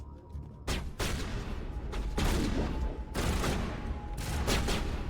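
Pistol fire in the video game Mass Effect, a series of loud, close shots in irregular bursts over a constant rumbling battle backdrop.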